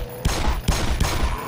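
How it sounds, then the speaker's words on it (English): Rapid gunfire in the video game Black Mesa, with three loud, dense bursts of shots in quick succession filling the short moment. "You have unlimited ammo. I'll just let you shoot at him."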